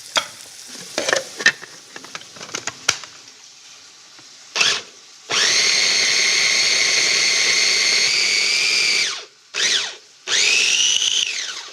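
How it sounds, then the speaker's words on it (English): A small food processor chops garlic for a pestata in loud, steady whirring bursts: one long run of several seconds, then two short pulses, after some quieter clatter of loading and handling at the start. "We'll make the pestata in this little processor right here"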